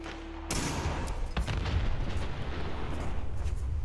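A loud explosion in the video game Dwarf Fortress bursts in after a brief quiet start and rolls on as a dense, sustained rumble with crackling blasts to the end.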